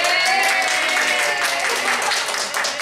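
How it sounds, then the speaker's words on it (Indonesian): A group of people at an evening sharing gathering breaks into dense, lively applause. The clapping is sustained and even for about three seconds, then fades quickly at the end. "Cindy, tepuk tangan."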